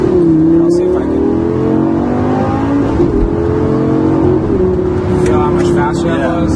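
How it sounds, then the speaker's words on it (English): Engine of a 2009 Lamborghini 560-4 accelerating hard through quick upshifts, the loud rising note dropping sharply at each gear change, with a person talking over it. "your upshifts are much quicker and your downshifts are much faster as well"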